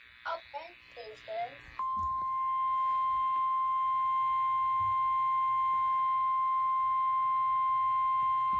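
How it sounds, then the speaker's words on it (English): A NOAA Weather Radio warning alarm sounds as a single steady, piercing tone that holds unbroken for several seconds. A brief stretch of spoken announcement comes before it. "This is a test of the NOAA Weather Radio Warning Alarm."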